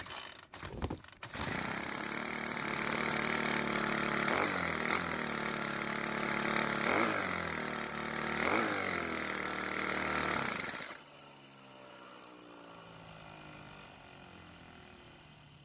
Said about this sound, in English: So as you can see with the engine on and revving, the clutch is engaging the drum and spinning it